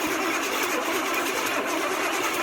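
A 1982 Pontiac Firebird engine, run again after sitting 22 years, cranks and churns with a steady, dense mechanical roar. The noise is continuous and fairly loud throughout, with no voices over it.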